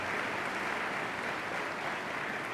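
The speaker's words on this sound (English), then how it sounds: "Please give them all a round of applause." Audience applause at a 2017 winter college commencement forms a steady, even wash of distant clapping from a large crowd, moderately quiet and unbroken throughout.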